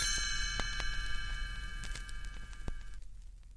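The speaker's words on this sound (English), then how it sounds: "You'll know it's time to turn the page when you hear the chimes ring like this." Several bright chime strikes ring out with long, sustained metallic tones that overlap and shimmer, then cut off abruptly near the end.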